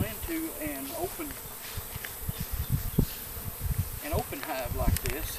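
Honey bees swarm around an open hive outdoors, their dense buzzing rising and falling close by, with individual bees zipping past the listener and a voice speaking faintly underneath.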